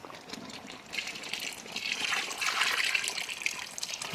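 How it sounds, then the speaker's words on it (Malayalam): A ground paste of coconut, garlic, cumin and pepper is poured into a simmering jackfruit seed and drumstick leaf curry, giving a close, continuous wet trickling and gushing pour with no talk. "വെളുത്തുള്ളി ജീരകം കുരുമുളക് ഇതെല്ലാം കൂടെ തേങ്ങ കൂടെ അരച്ചതാണ് ഇത് ഒഴിച്ചു കൊടുക്കാം"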